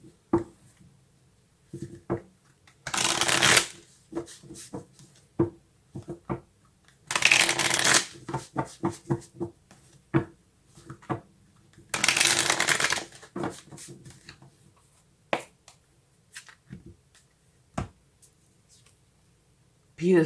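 Tarot cards shuffled by hand in three distinct bursts of riffling, each a few seconds long, separated by scattered taps and soft clicks of cards being handled and laid down close by.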